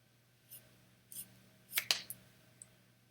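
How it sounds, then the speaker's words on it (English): A few crisp snips of craft and rubber scissors trimming, quiet and close, with a pause and then a quick cluster of two or three cuts. "We have craft and rubber scissors. Here we go. And I'm going to trim this."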